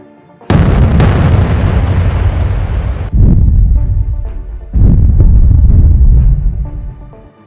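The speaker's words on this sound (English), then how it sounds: "a missile tore through the sky and slammed directly into the launcher, engulfing it in a massive explosion" A missile strike blasts a Ukrainian multiple launch rocket system mid-firing, with a sharp initial burst, a second crack, then two further heavy booms trailing into rumbling roar.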